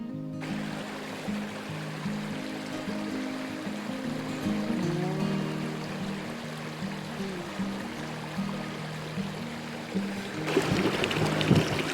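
A stream at a backpacking stop flows with a steady broadband rush, with a low droning hum underneath and a louder surge of splashing near the end.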